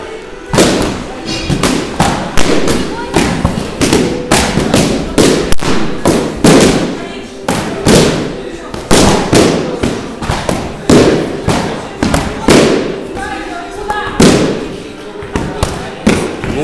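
Repeated hard strikes thud against a training shield in quick irregular bursts, sharp and close, while a coach shouts instructions over the impacts.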